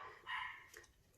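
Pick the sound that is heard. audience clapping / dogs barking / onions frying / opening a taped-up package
dogs barking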